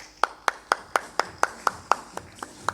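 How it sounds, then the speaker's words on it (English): Clapping at an industry conference panel on packaging technology: a single, evenly spaced series of about eleven crisp claps, moderately loud, with little else behind it. "Let's give him a huge round of applause."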